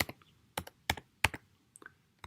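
Close-up typing on a computer keyboard while writing Python code, a handful of sharp separate key clicks in an uneven rhythm with quiet gaps between them.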